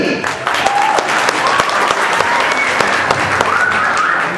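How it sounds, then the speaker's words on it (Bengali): An audience claps steadily throughout at an Easter program contest finale, dense and loud, with scattered cheers rising over the continuous applause. "সবাই জোরে করতালি।"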